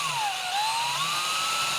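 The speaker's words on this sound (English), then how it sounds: "Just drilling a recess right there." A power drill bores a recess into an electric guitar body in a workshop, its steady high whine sliding down then slowly rising in pitch as the bit cuts, close and loud, continuous with no talk.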